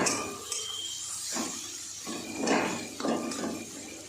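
Fried dried fish (shutki) stirred into spices in a pan, with several clinking, scraping strokes of a utensil against the pan over a soft background hiss, no talking.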